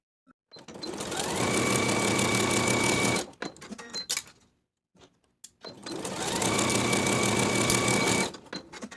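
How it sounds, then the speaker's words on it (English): A sewing machine runs in two long, steady bursts stitching the seams of linen shorts, with a short quiet pause between them. "Sew both seams with a 5/8 inch seam allowance and press the seams open."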